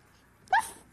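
A young puppet character voices a single short, sharp imitation of a dog bark, close and clear, in a children's television scene.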